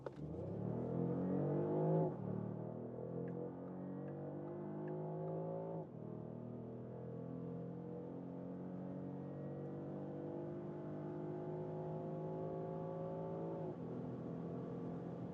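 A 2025 Porsche Panamera e-Hybrid accelerates hard from 50 to 200 km/h, its engine note climbing steadily through several gear changes, loud and close throughout with no talking.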